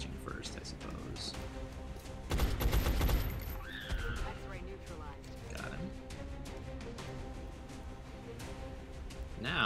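Gunfire bursts in XCOM: Enemy Unknown, a dense volley of shots around the middle standing out over steady game music and ambience, with someone talking over much of it.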